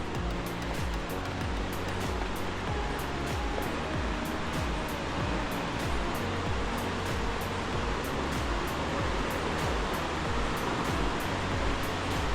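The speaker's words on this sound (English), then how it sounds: "I think I see water flowing." Water rushes steadily through a gorge waterfall, a dense, continuous roar of broadband splashing close by, with no voices.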